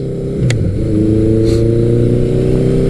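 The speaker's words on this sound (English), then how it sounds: "there's nothing like the sound of a big air-cooled 4-cylinder bellowing through a pipe under full acceleration" A Suzuki GS1100L with a big air-cooled four-cylinder engine revs through its exhaust under hard acceleration, a steady loud bellow that holds throughout.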